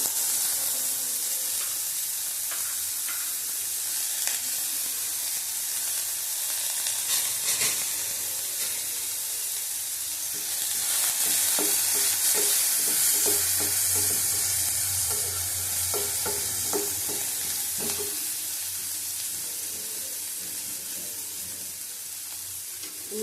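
Chopped garlic and ginger sizzle in a pan on low heat, with a soft steady frying hiss and intermittent stirring scrapes that grow busier midway, no talking.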